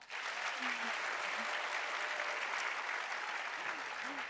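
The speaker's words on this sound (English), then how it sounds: "let's do one trial run of applause" An audience claps together in a practice round of applause before a live podcast show at a large forum, a steady even wash of hands lasting several seconds with faint voices beneath.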